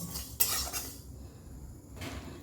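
Cumin, fenugreek and nigella seeds dry roasting in a dry wok for mango pickle spice, with metallic scraping and stirring clatters in two short bursts separated by a quieter pause.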